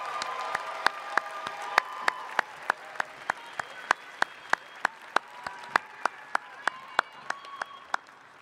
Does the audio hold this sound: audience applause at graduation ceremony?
yes